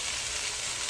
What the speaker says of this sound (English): Cooking up real nice. Nice sear on it.